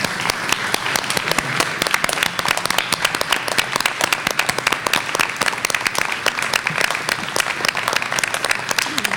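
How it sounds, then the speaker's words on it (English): Audience at a school board meeting applauds students, dense steady clapping that fills the whole stretch at a fairly close, even level with no clear talk over it. "let's applause them again"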